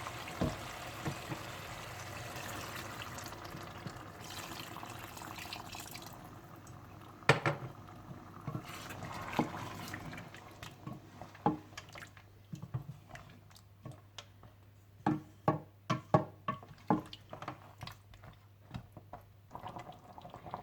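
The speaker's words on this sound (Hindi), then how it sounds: "मटन को अच्छी तरह भूनने के बाद अब आप इसमें इतना पानी डाल लीजिए कि जिसमें गोश्त अच्छा सा गल जाए।" Water poured into fried mutton for korma gives a continuous low bubbling simmer, with sharper pops and drips becoming more frequent toward the end, close and fairly quiet.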